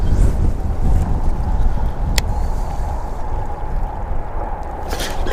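Wind blowing over muddy spring water while fishing from a boat, a steady low rushing roar with microphone buffeting, one brief sharp click partway through and no talk.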